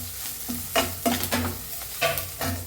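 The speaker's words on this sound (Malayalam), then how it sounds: "ഞാൻ അപ്പൊ കുറച്ച് കറിവേപ്പില ഇട്ട് കൊടുക്കുന്നുണ്ട് കേട്ടാ ഞാൻ ഇളക്കി കൊടുക്കാം" Curry leaves stirred into a frying chicken curry masala in a pan, with a soft sizzle under several scraping spoon strokes in uneven rhythm, close and moderately loud, no talking.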